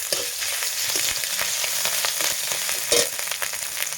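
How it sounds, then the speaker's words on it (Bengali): Ginger paste and garlic paste hit hot oil with already fried onions for an ivy gourd and poppy seed dish, giving a loud, continuous close sizzle with a few stirring scrapes and no talk. "এখন আমি দিয়ে দেবো একটু আদা বাটা"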